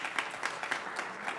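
Applause for a speaker at an education coalition event, a steady patter of clapping from an audience with regular bursts, moderately loud and continuous throughout.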